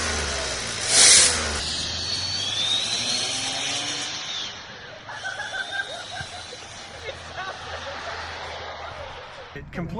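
A Smart 4.2 Passion car fitted with a homemade turbo whistle tip revs near and loud, giving off rising whistling tones over engine noise, with a person talking over it.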